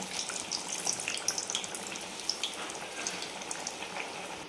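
Vadas deep-fry in hot oil over a medium gas flame, giving a soft, steady sizzle sprinkled with small crackles and pops, fairly quiet and close, with no talking.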